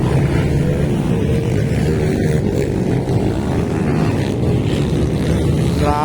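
Kawasaki KLX motocross bikes racing a festival motocross heat, engines roaring loud and continuous with wind buffeting, a rider revving higher near the end.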